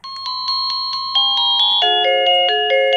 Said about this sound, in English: It goes ding dong.